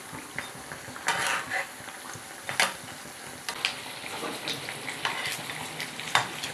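Potato fritters (aloo chop) fry in a small amount of oil with a soft, steady sizzle, punctuated by repeated sharp clinks and scrapes of a utensil against the pan, close and without talk.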